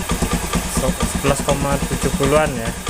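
An older Honda Beat motorcycle engine idles at close range with a steady low pulsing rumble, while someone talks over it throughout.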